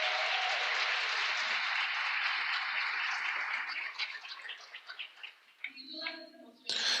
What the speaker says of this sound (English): So please, a round of applause to each one of them.